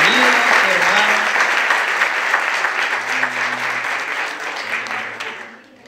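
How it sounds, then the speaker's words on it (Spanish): Church congregation claps in welcome for newcomers, a loud sustained round of applause that gradually tapers off, with a few voices talking underneath. "Démosle un aplauso a ellos de bienvenida."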